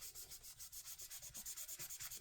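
Tissue rubbing rose gold foil off a surface in quick, even back-and-forth strokes, a soft, close, rhythmic scratchy swish with no voices.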